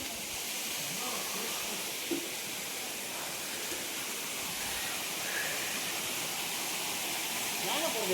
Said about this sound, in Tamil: மயிலுத்து அருவி